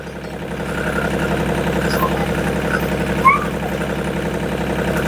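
A new Mahindra Oja tractor idles with a steady, close, rumbling drone that holds an even throb, with one brief bump partway through.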